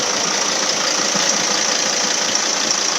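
A 2.9 diesel engine in a Hymer S520 motorhome with 143,000 km running, a steady, dense mechanical clatter and hum at constant loudness with no revving.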